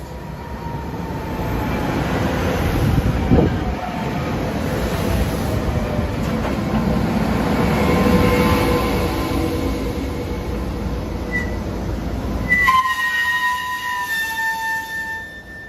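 A SEPTA GE Silverliner IV electric train runs with a loud rolling rumble and rising whine, wheels and brakes screeching in high sustained tones toward the end as it slows.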